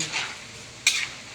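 Food fries in a pan while being stirred, a soft steady sizzle broken by a sharp scrape of the utensil against the pan near the end, with no voices.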